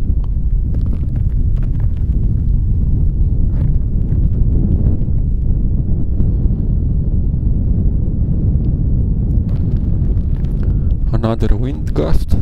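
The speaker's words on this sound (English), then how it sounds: "Another wind gust." Heavy wind gusts at an F5J glider competition in Osnabrück, Germany, buffet the microphone in a loud, low rumbling roar that persists throughout, with faint higher noises near the end.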